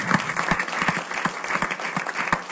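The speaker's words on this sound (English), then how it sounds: "give these ladies a round of applause" Applause at a school board meeting for two staff members, a few seconds of moderately loud clapping from a modest crowd with individual claps audible.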